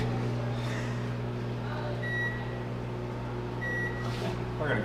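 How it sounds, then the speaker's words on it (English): A microwave oven hums steadily in a home kitchen, a constant low drone, while two brief high beeps sound partway through; a voice is faintly present. "now that it is done cooking in the microwave"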